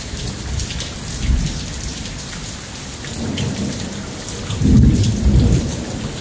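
Heavy rain pours steadily during a major lightning storm in Lufkin, Texas, with deep rolls of thunder swelling and rumbling beneath the downpour, one louder near the end.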